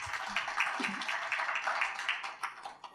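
Audience applause at a university inauguration ceremony, a faint, steady patter of clapping lasting a few seconds.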